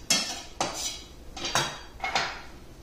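A knife chopping on a cutting board, five sharp distinct knocks at roughly half-second intervals, close and clean with quiet gaps between strikes and no talk.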